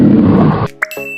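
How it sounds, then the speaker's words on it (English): A cougar gives a single loud, close roar lasting about two thirds of a second, cut off sharply and followed by a brief ringing tone. "Cougar,"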